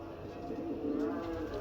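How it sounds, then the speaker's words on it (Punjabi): A Ferozepuri pigeon gives a short, soft, throaty coo at close range against a quiet background. "ਲਓ ਜੀ ਇੱਕ ਕਾਮਯਾਬ ਰਿਜ਼ਲਟਡ ਫਿਰੋਜ਼ਪੁਰੀ ਕਬੂਤਰ ਆਪਣੇ ਕੋਲ ਜਨਾਬ"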